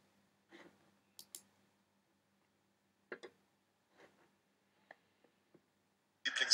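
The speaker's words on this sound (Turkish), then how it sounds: "Buradan kutucuğa tıklıyorum, seçileni ekle seçeneğine basıyorum." Mouse clicks in drawing and analysis software for football video: a sparse run of sharp, quiet single and double clicks spaced through a quiet room, ending in a louder burst.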